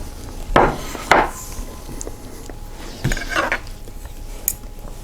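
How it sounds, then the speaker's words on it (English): A butter knife cuts and shreds cooked Instant Pot turkey breast on a plate, giving a few sharp scrapes and clinks against the dish with quiet gaps between them. "I can cut this meat with a butter knife, see? I can just shred it apart."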